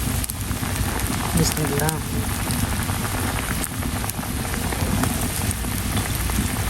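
Fish curry broth poured into a hot, sizzling pan of spiced fish, giving a steady loud hiss and crackle throughout, with a brief spoken word near the start.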